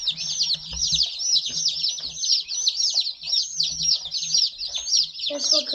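A bantam chick chirps in a rapid, continuous stream of high peeping calls close by, with other chicks of a hatchery batch faintly in the background and a brief low voice at the end.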